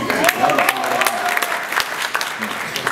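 An audience at a comedy show launch breaks into applause, sharp claps scattered over a crowd murmur, with voices talking through it.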